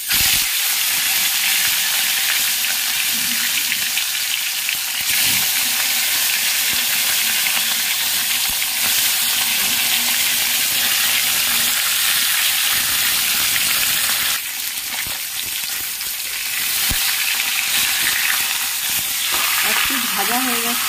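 Fish fries in hot oil in a wok, giving a loud, continuous sizzle and hiss that swells briefly near the middle and end, with no talking.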